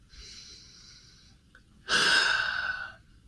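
A person takes a slow, airy deep breath in and then lets out a longer, louder exhale, close to the ear in a quiet room.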